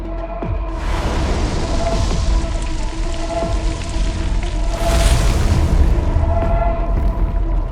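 Explosions rumble through a city in the Roblox game Brookhaven, a loud, continuous low booming with a crackling texture that swells stronger about two-thirds of the way through; no one speaks.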